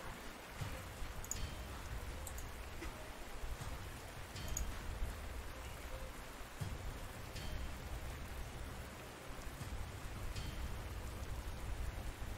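Steady rain in the war strategy game Panzer Corps 2, a constant soft hiss of falling drops with no voices, even and unbroken throughout.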